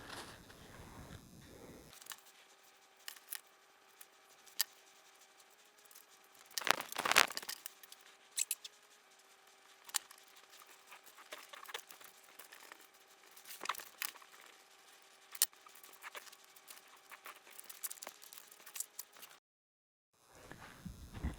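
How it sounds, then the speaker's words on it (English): Knife or blade cutting two aileron control horn slots into a foam Twisted Hobbys Puddle Star model airplane part: close, quiet crinkling, scraping and crackling strokes that repeat over about eighteen seconds, with a sharper burst of cutting partway through. "So we need to go ahead and cut both of those slots."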